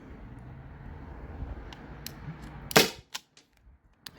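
A single sharp crack from a Byrna SD launcher fitted with a KMotor performance adapter and gas cartridge, firing one shot that stands out clearly against a quiet background and is followed by a few small echoing clicks.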